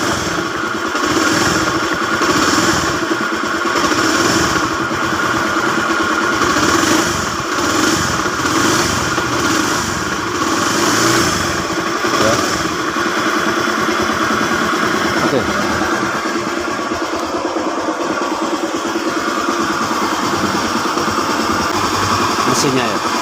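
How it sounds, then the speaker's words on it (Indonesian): A Honda Beat FI scooter engine running with a loud knock from inside the crankcase, a steady, close, harsh mechanical clatter throughout with someone talking over it. "Mesinnya ya, itu sangat bersuara keras sekali."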